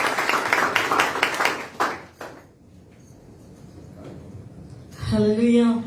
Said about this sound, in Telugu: అందరూ చప్పట్లు కొడుతూ